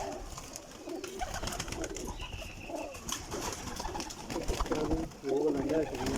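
Pigeons kept for sale coo in soft repeated bursts, growing clearer toward the end, with people talking nearby and general background bustle.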